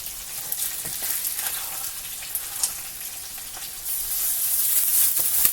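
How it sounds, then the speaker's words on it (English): Breaded cod fries in hot oil, a loud, continuous close-up sizzle with scattered pops and crackles that swells slightly toward the end, with no talking. "Place cod into oil"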